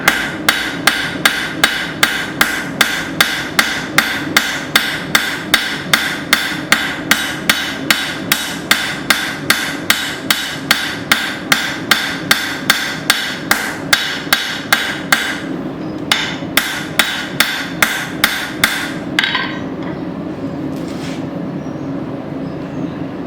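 Rapid, evenly paced hammer blows ring out while forging and widening the thinned handle of an old steel file, a steady loud series of sharp metallic strikes that turns irregular and sparse toward the end, with no talking.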